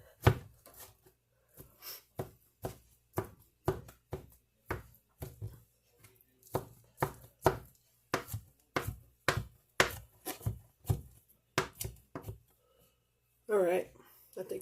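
Knife chopping cooked rump roast beef for burritos on a board, a steady run of sharp, close, evenly spaced thuds that pause briefly, with a short burst of talk near the end.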